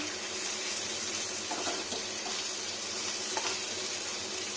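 Ginger, onion and garlic sizzle in a pan, a soft continuous hiss with faint scattered crackles, fairly quiet and steady throughout.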